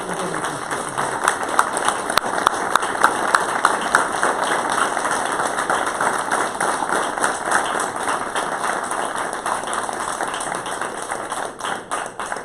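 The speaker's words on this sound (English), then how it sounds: "Let's give our officers a big round of applause for what they do." Sustained audience applause for police officers at a town board meeting, a dense steady patter of many clapping hands filling the room, holding at an even level throughout with slight swells and no clear speech.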